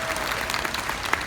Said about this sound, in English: All of the applause for you